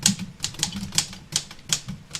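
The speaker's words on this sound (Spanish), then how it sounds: "que adentro sonaba la máquina de escribir." Rapid, close clacking of typewriter keys, crisp irregular strikes in quick bursts with no talking over them.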